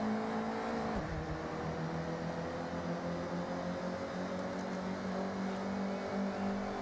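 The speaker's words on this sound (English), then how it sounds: "Got a better launch than the Civic did." A car launches at the start of a point-to-point race in Forza Horizon, giving off a steady, moderately loud engine drone that climbs in pitch as it accelerates, with no talk.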